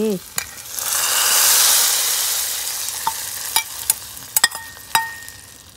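Hot tempering of oil and curry leaves pours into a red kidney bean soup with a loud burst of sizzling that slowly fades, followed by several sharp clinks of a metal utensil.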